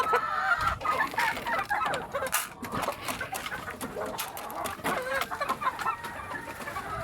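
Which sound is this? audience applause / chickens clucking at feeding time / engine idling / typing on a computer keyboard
chickens clucking at feeding time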